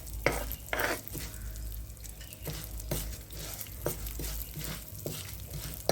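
Urad dal fries in a pan under repeated stirring, with scraping strokes of a spoon over a soft continuous sizzle, close and fairly quiet.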